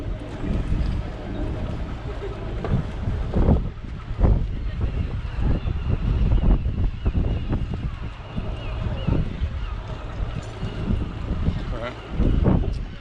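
Gusty wind buffets the microphone with loud rumbling bursts on coastal hills at West Bay, Bridport, Dorset, UK, rising and falling throughout, with a voice faintly under the noise.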